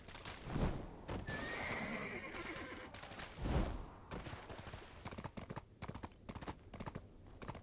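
A horse in the video game Black Desert Online whinnies loudly, then gives a second neigh, with clip-clop hoofbeats and sharp clicking bursts following.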